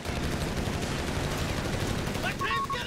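Heavy machine gun fire in Company of Heroes 3 on an Italian beach landing map, a dense, continuous rattle of shots in battle, with brief shouted voices near the end.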